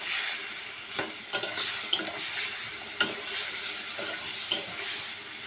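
Masala is sautéed in a pan before water goes in, with a steady sizzle and sharp spoon clacks against the pan roughly every second, close and clear.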